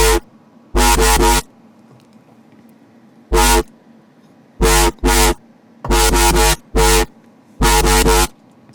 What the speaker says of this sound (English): It's actually the bass sound from his new track